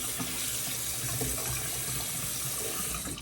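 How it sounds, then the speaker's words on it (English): A bathroom tap runs steadily for a rinse after a shave, a close, even rush of water that continues without pause and without speech. "I'm gonna rinse off here real quick"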